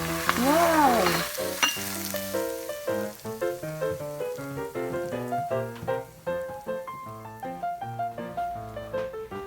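Hot boiling oil poured over chilli and garlic for chilli garlic noodles sets off a sizzle under a loud bed of bright, rhythmic background music that dominates throughout.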